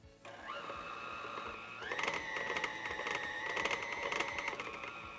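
A stand mixer whirs as it mixes chocolate crinkle cookie dough with cayenne, a steady motor hum that steps up in speed partway through and carries on loud and close.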